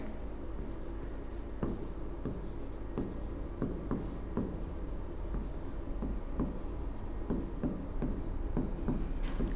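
Hindi being written on a board, with a run of short scratchy strokes and taps in an uneven rhythm, close up over a steady background hiss.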